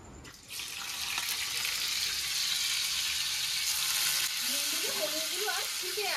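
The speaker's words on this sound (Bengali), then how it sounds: "ভালো করে লাল লাল করে ভেজে নেবো পনিরগুলোকে" Paneer pieces sizzle loudly in hot mustard oil seasoned with salt, a steady dense frying hiss close up that continues throughout, with a faint tonal squeak near the end.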